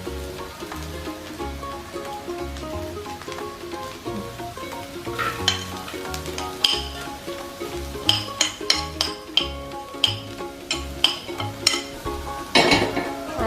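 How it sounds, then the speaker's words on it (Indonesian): Chopped tempeh and carrots stirred in a sizzling pan, with a utensil scraping and clinking against the metal in a steady, repeated rhythm over a constant fry. "Aduk hingga merata,"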